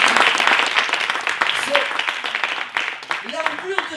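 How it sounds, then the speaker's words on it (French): A church congregation applauds at a French-language sermon, dense sustained clapping filling the room at a fairly loud level, with a voice speaking over the ovation. "Est-ce qu'on peut l'applaudir vraiment?"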